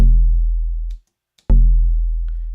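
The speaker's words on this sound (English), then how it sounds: "closer to wood, it would sound like this." A Logic Sculpture physical modeling synth string, material set toward wood, plucked twice: a dull, woody low note fading then cut, followed after a brief pause by a second identical strike ringing on alone.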